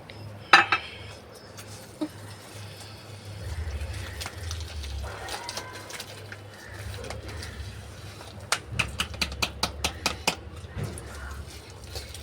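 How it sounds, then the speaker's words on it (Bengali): A spoon stirs milk into semolina cake batter in a bowl, with quiet mixing followed by a quick series of sharp, regular spoon clinks against the bowl. Pigeons coo softly in the background. "এবার দুধটা দিয়ে আগে প্রথমে 2 চামচ দুধ দিয়ে গুলে দিচ্ছি"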